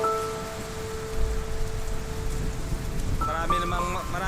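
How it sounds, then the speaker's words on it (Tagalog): Heavy rain falls with a dense, steady hiss that swells slightly partway through. A faint tonal hum runs underneath and fades out, and a voice murmurs near the end. "Lakas ng ulan, oh."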